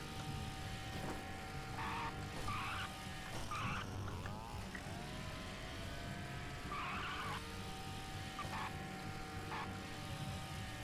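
An RC car in the video game Duke Nukem Forever driving and skidding: a droning motor with repeated bursts of tire squeal and skid, loud and steady throughout, no talking.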